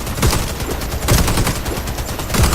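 Sniper rifle gunfire in a shooter video game, a run of loud cracking shots, several close together in quick succession, filling the whole clip.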